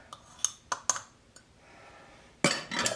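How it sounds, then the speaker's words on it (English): A metal spoon clinks against the inside of a glass canning jar filled with pizza sauce during water-bath canning, giving a few sharp taps, then a soft rubbing pause and a louder scraping burst at the end. "I'm going to run my spoon in like a debubbler"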